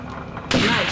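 A single loud gunshot in the Second Sight video game, a sharp sudden blast halfway through after a brief quieter lead-in, ringing out to the end.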